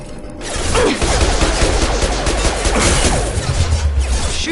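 Sustained gunfire in the Mass Effect Legendary Edition video game, a dense run of loud shots and impacts lasting throughout with clanking mechanical noises, no speech.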